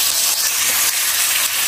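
Grated coconut sautéing in a hot pan with curry leaves, giving a steady, close, loud sizzling hiss throughout and no talking.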